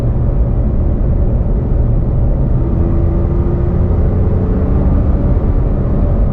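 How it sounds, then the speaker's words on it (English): The engine of a new Toyota Tacoma pickup revs under added throttle with traction control switched on, a loud, steady low drone heard close and alone for several seconds. "Let's give it a little more gas."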